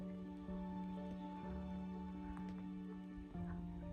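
Soft, scattered patter of light rain drops sprinkling at Pattison State Park, with a steady low hum and a few faint taps in the background.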